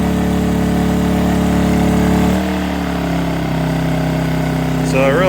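A WEN 56235i inverter generator engine runs under load with a loud, steady hum whose pitch drops and shifts as the RPM is varied, then climbs again, alone and close.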